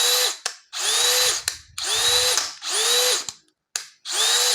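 DeWalt DCD805 cordless brushless impact drill spun up in short bursts, four high-pitched whirring runs with rising and falling motor pitch separated by brief silences and trigger clicks, close and loud, no talk.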